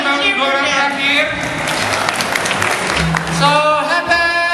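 Audience applause at a youth team event, a sustained wash of clapping from a crowd under an announcer's voice and cheering.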